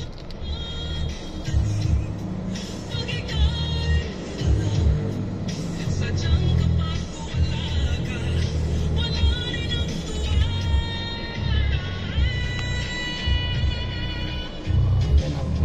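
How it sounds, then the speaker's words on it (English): Busy road traffic in the Philippines, with a constant low rumble of passing cars and buses, engines idling and moving close by, and scattered higher tones and horn-like notes over the top. "Traffic."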